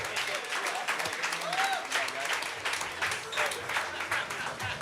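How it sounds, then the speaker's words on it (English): Audience applause at a tech summit event in San Francisco, a full round of clapping from a crowd that holds steady and fairly loud throughout, with some voices and cheers mixed into the dense patter. "Give a round of applause to Mashana and Jesse."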